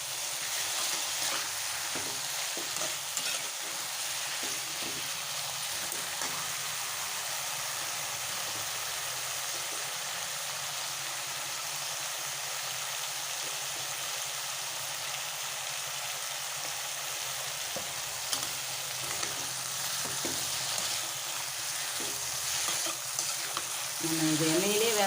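Brinjal slices frying in oil for a Tamil-style brinjal fry, a continuous hissing sizzle with occasional soft stirring taps, close and steady for the whole stretch with no talking.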